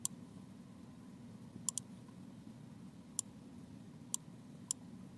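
Sharp, faint mouse clicks on a computer, a quick double click followed by three more spaced single clicks over a low steady hum.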